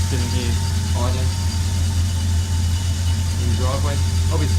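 A car engine idles in a driveway with a low, steady rumble close by, while someone talks over it intermittently.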